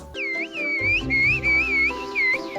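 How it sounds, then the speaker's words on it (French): Sustained whistled tones of a whistled language gliding up and down in melodic, speech-like phrases, clear and loud over a low background drone. "certaines personnes utilisent des langues sifflées pour communiquer à distance"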